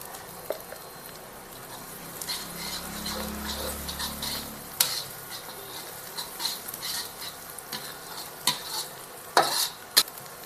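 A fish curry base with turmeric fries gently in a pot while a utensil stirs and scrapes through it, with soft sizzling and a few sharp clinks against the pan.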